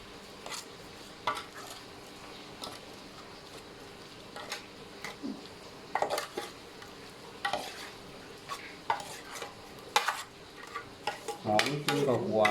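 Duck larb ingredients being stirred in oil in a pan: intermittent scraping and clinking of a utensil against the pan over a faint sizzle, close and sporadic.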